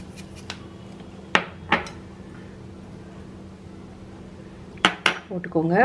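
Mixture being beaten in a bowl after salt and pepper go in, heard as a few sharp clinks and taps of utensil on dish, separated by quiet stretches, ending in a quick cluster of scraping knocks.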